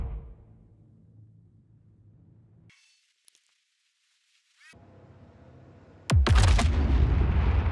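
Aerial bombs dropped in a video game, a low rumble that cuts to near silence, then a sudden loud explosion with a rough roar that carries on to the end.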